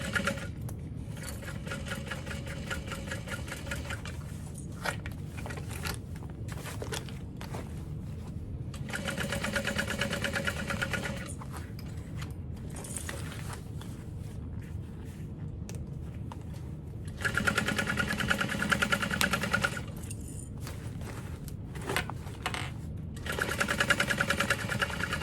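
A sewing machine basting a fabric barrel bag at 1/8 inch: a close, rapid mechanical whirring that runs in several bursts separated by short pauses, with brief louder stretches.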